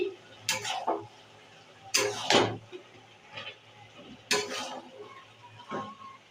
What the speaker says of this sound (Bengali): লাউটাকে ভালো করে কষে নিয়ে তারপর তোমাদের দেখাচ্ছি এই আমি একটু নেড়ে নিচ্ছি